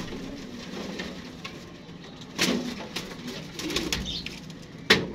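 Pigeons on a rooftop coo softly under a steady outdoor hiss, with a couple of sharp, brief flaps or rustles and a sudden loud burst near the end.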